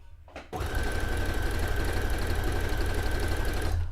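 Sewing machine running steadily while stitching a white dress, a continuous close mechanical whir starting after a brief pause and holding at even loudness without pause.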